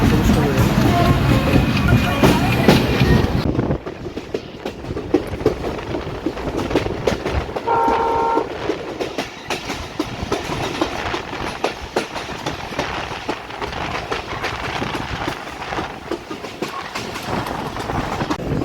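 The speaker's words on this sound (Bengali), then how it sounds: "এই যে আলমডাঙ্গা স্টেশনে প্রবেশ করতে চলেছে ঢাকা থেকে ফের আসা খুলনা অভিমুখী নকশিকাটা কমিউটার" The Dhaka–Khulna Nakshikatha commuter train rolls into Alamdanga station with a loud, close rumble and rattling wheels that ease into a steadier clatter as it slows.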